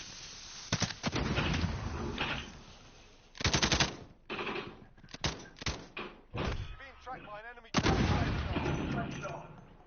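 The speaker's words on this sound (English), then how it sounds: "He spotted me, he's firing at me now." Gunfire in Call of Duty Warzone comes as several loud bursts and single shots at irregular intervals, mixed with thuds and a player talking over the action.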